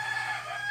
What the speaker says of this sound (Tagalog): Ang ingay ng manok namin dito, guys.